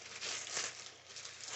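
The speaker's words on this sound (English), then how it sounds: "sorry for the rustling plastic here" Plastic packaging from a coloring book and art supply haul being rustled and crinkled close by, a soft, continuous crackling with small swells, fairly quiet and with no talking.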